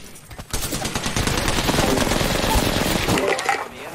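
Sustained rapid gunfire in Apex Legends, a dense, loud stream of crackling shots that kicks in after half a second and rattles on for about three seconds before trailing off, with a voice talking over it.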